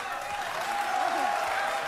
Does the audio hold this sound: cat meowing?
no